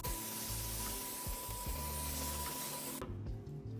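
A paint spray gun sprays primer onto a vintage wooden dresser, a steady, loud, continuous hiss with a faint tonal whine that runs for about three seconds before cutting off abruptly.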